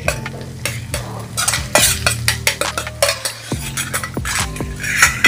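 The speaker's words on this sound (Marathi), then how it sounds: "ती सुद्धा थोडी तेलामध्ये परतून घ्यायची." Green chilli and coriander being stirred and fried in hot oil for paneer bhurji, with a spoon scraping and clinking against the pan in repeated strokes over a steady sizzle, close and clear.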